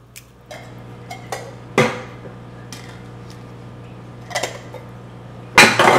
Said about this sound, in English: 2 cans of tomato sauce going in. Two cans of Rotel going in.